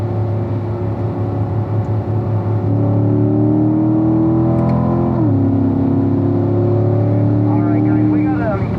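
A 2017 Corvette Stingray C7 Z51 accelerating on a race track, its engine droning loud and close, pitch climbing through the revs, dropping at a shift and climbing again, with an instructor talking over it.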